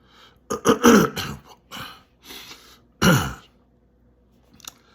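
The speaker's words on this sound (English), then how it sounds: "I had to clear my throat on this one" Someone clears their throat with several harsh, rasping bursts close by, then a final loud hack after a pause, and a faint click at the end.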